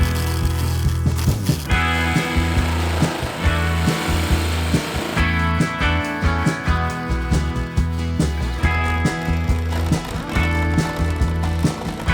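A 14-inch hole being cut through the metal roof of a Chevy Express van for a Maxxair fan, loud rhythmic rasping saw strokes repeating close up with no talking.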